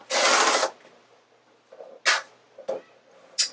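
Rotary cutter slicing fabric strips for bias binding along a ruler's 2.5 inch line: one long rasping cut up front, followed by several short, crisp scraping strokes spaced apart, close and fairly quiet, with no talking.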